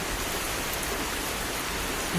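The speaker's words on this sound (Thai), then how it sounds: "ฝนตกเรียบร้อยแล้ว" Rain falls steadily on a rural homestead in the rainy season, giving a dense, even hiss that stays constant throughout with no voices.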